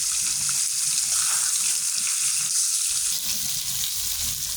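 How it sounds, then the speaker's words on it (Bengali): A large fish head lightly frying in hot oil gives a continuous, loud, crackling sizzle that stays even throughout with no voices. "আর মাছটা এভাবে হালকা ভেজে নেবেন।"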